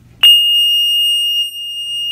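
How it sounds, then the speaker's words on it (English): A Motorola Minitor 3 pager powering on sounds one loud, sustained, pure electronic beep of about a second and a half, clear and close in an otherwise quiet room. "you're going to hear a loud beep as demonstrated right now"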